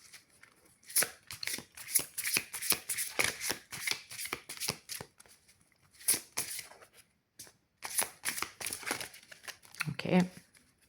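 Tarot cards are shuffled by hand in repeated quick riffling bursts, close and crisp, pausing briefly midway before resuming.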